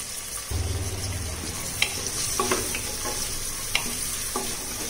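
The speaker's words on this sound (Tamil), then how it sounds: "வெங்காயம் நல்லா வந்துட்டு பொன்னிறமா வரணும், அது வரைக்கும் இதை வதக்கிக்கலாம்." Sliced onion, curry leaves and a little salt sautéing in a pan for mushroom gravy, giving a steady close sizzle with a few sharp clicks of a spoon stirring against the pan.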